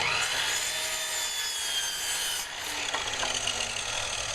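Red cedar stud braces being cut for a porch roof frame, giving a steady, continuous rasping saw noise that stays loud and close throughout, with a brief dip partway through.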